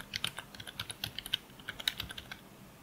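A computer keyboard clatters with a short burst of quick, uneven keystrokes as a mkdir command is typed at a Linux terminal, close and clear in a quiet room with no talking.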